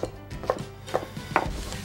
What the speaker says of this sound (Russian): И вот дорезаю остаток.